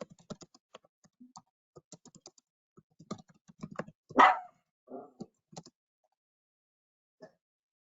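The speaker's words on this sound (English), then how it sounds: "excuse the dog in the background" A dog barks once, short and moderately loud, somewhere in the background, surrounded by scattered soft keyboard taps and small clicks in an otherwise quiet room.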